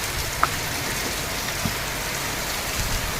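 Steady heavy rain pours down onto a house slab roof in a dense, unbroken hiss, with a few faint taps and knocks standing out briefly.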